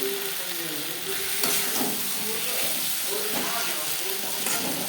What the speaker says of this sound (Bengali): ভাজা মশলা বেশ ভালো করে মিক্স করে দেবো